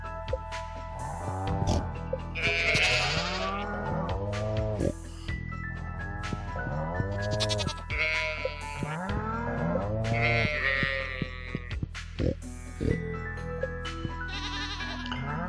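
Goats in the Stardew Valley farming video game bleat repeatedly in short, nasal cries, several overlapping calls close up against a steady game background tone.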